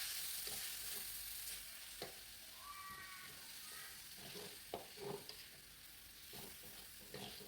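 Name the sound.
meat stir-fried with sautéed spices in a frying pan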